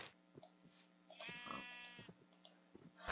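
Sheep bleating in Minecraft, a couple of short wavering bleats over soft clicking game sounds, faint and close.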